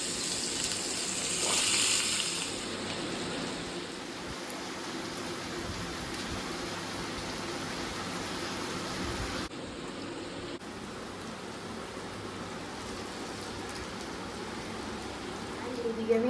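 Potatoes frying in a pan for Bengali aloo posto, a steady close hiss and sizzle that runs throughout, louder at first.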